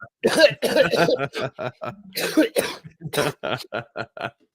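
A person coughs in several rough bursts, interspersed with voiced, laugh-like sounds, close and fairly loud.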